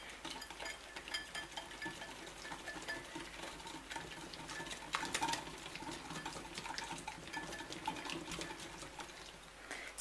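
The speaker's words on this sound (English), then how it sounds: "Mix everything up." Seasonings including cayenne pepper and a Maggi cube are mixed in a bowl for baked red snapper, giving faint soft stirring and light tapping scrapes close by without talk.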